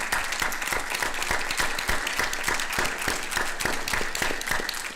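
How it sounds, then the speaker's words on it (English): Audience applause at a prison board of trustees meeting, a steady roomful of clapping sustained evenly for the full stretch, moderately loud with no voices over it. "we need a round of applause"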